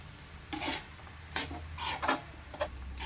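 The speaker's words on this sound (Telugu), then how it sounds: "మొత్తం అంతా ఇలా కలిపేసుకున్నాము." Fried onions and salt are stirred together in a pan, giving about five short, separate scraping and clinking strokes of a spoon against the pan over a quiet background.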